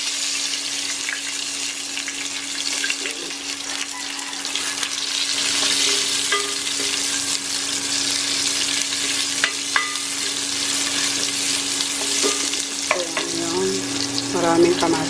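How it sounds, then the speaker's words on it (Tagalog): Garlic, onion and tomato sauté in a pan, a steady loud sizzle with occasional stirring clatter and some running water in the background throughout. "Igisa ko lang bawang sibuyas, kamatis"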